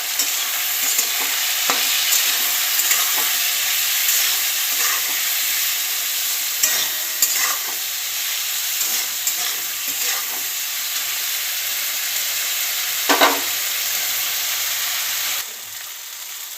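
Spices sizzle steadily in a hot pan with turmeric, cumin powder, chili powder, salt and ginger, while a spoon scrapes and stirs through them in irregular strokes; frying stays constant and close with no talking.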